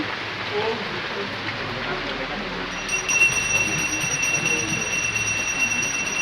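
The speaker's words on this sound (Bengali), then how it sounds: "বৃষ্টির আওয়াজটা দেখো কেমন শোনা যাচ্ছে" Heavy rain pours steadily around a temple, a dense constant hiss that grows slightly louder midway, with a thin high electronic whine joining in the second half.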